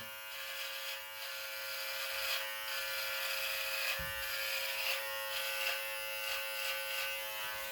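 A Brio Beardscape Pro electric beard trimmer runs with a steady, close, high-pitched buzz for several seconds. It is heard alone, with one brief low thump partway through.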